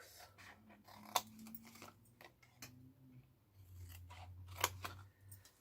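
Scissors snip through card while a box is being made, giving quiet, close, separate cuts with small crisp clicks at irregular intervals across a hushed background.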